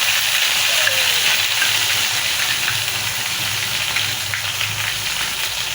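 A ground mustard paste with onion, green chili and cumin, just added to hot oil for a poa fish dish, makes a steady, loud, hissing sizzle that holds evenly throughout with no voices.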